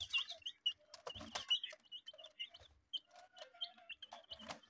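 Young chicks in a newly built cage give a run of high, thin cheeping chirps, near and fairly busy, with some lower clucking and brief rustles mixed in.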